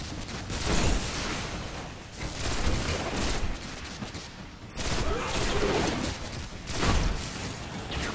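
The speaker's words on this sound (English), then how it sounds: "So I'm gonna throw it with a grenade." A grenade blast destroys a portal during Destiny gameplay, with rapid rattling gunfire and booming explosions in loud dense bursts, the louder bursts clustered near the start, middle and end.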